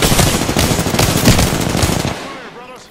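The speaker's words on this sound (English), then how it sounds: "Getting shot at." Loud, rapid automatic gunfire in the shooter game Apex Legends, dense overlapping bursts hammering for about two seconds before cutting off, leaving a fading echo.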